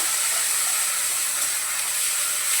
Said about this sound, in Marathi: पहिले थोडंसं कांदा परतून घेते